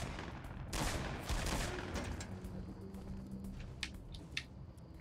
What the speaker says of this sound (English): Who's shooting? Who's firing?